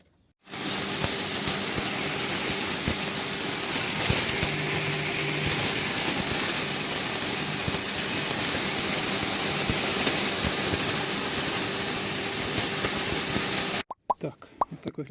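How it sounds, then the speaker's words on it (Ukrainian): A grain mill grinds homemade chicken feed mixed with crushed shells, a loud, continuous rushing roar that starts abruptly, holds steady at close range for about thirteen seconds, then cuts off, leaving a few faint clatters. "Це зараз все я перемішую і перепускаю на млин."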